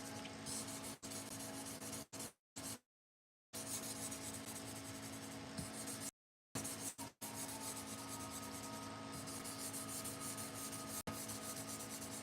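Pet grooming shears drawn across a 1,000 grit sharpening stone give a steady, close scraping rub that runs nearly continuously, broken by a few short silent gaps between strokes.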